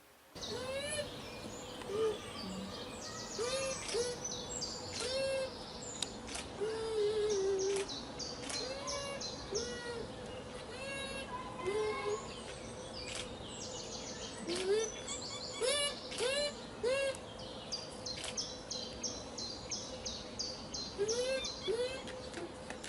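Repeated high, whistling squeaks from bush dogs call out again and again over a busy chorus of chirping birds, fairly close and clear.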